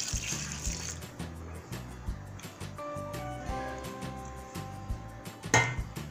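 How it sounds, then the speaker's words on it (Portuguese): Hot water poured gradually from a mug into homemade sunflower liquid soap, a soft trickling and splashing with light clinks of the container, fairly quiet and close. "Agora a gente vai tá pondo água, gente, pra dissolver."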